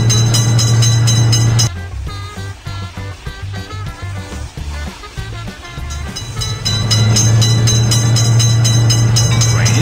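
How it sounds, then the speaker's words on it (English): A loud, sustained tonal rumble from a cartoon train passing breaks off into bouncy electronic music, then the train sound swells back in and holds to the end. "Train is coming."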